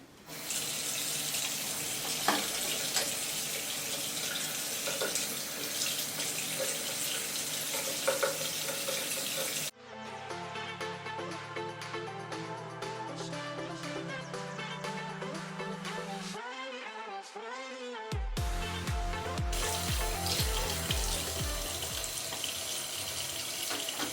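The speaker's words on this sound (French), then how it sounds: "Donc je mets l'eau un peu tiède." Lukewarm tap water running into a sink while makeup brushes are washed, a steady close stream that changes pitch and flow partway through as the brushes and hands move under it.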